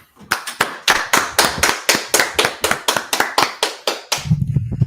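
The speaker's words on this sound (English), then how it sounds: "clap it up" Audience at an Israelite School of Universal Practical Knowledge gathering in Washington DC gives about a dozen sharp, rhythmic unison claps that stop abruptly, leaving a low murmur.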